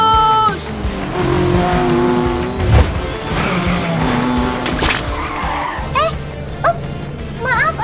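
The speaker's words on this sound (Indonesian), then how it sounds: "Ayo kita balap mobilnya, Raya." Cartoon racing cars in a children's animated song scene, with engines roaring and tires squealing in quick skids, several sharp chirps near the end, all set over a continuous bed of music.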